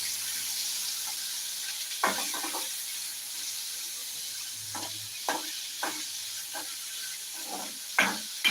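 Sliced onion and curry leaves sizzle in hot oil in a pan, a steady hiss broken by several scraping stirs of a spoon.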